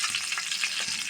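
Mustard seeds sputter in about a tablespoon and a half of hot coconut oil in an iron pan, giving a brief, bright, steady sizzle with soft crackles and no voices.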